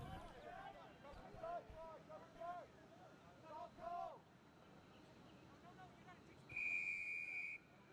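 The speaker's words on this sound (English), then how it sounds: "the ref blew that whistle" A referee's whistle at a rugby sevens match, one sustained shrill blast late in the clip, heard faintly over distant crowd noise and the murmur of commentary.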